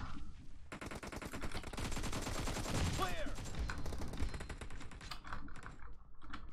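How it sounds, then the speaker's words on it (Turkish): Rapid automatic gunfire in the mobile game PUBG Mobile, a dense, sustained burst of shots nearly filling the clip, with a sharp ricochet-like whine partway through and then trailing sporadic shots. "Adam beni vuruyor ya."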